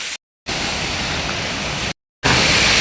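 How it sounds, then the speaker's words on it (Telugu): A waterfall pours in heavy monsoon rain on the Harichandragad trek, a loud, dense, steady rush of water heard up close. It drops out twice in brief silent gaps. "ఇక్కడ మనకు ఒక వాటర్ ఫాల్స్ ఉంది"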